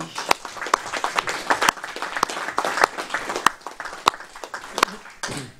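Applause at a municipal council meeting: a room of people clapping steadily for several seconds, with sharp individual claps standing out and some voices underneath.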